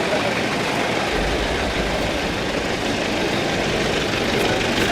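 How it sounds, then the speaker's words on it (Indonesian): A cement truck's engine idles close by, a steady low, heavy rumble that stays constant and unbroken throughout. "Matiin mesinnya Sarah, matiin mesinnya."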